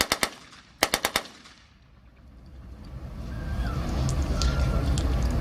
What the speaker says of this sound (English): Let's hear what the Tommy gun sounds like.